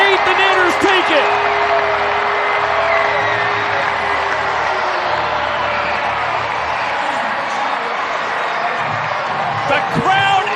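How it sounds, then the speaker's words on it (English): A baseball stadium crowd in Mesa celebrates a walk-off win, with loud sustained cheering, whoops and applause filling the air continuously, and a few brief shouts standing out over the roar. "The crowd in Mesa on their feet, jumping up and down in celebration over this Bananas win."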